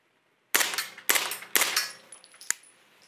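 Three sharp pistol shots fired with 158 grain ammunition ring out about half a second apart, each loud with a short metallic ringing decay, followed by a faint clink.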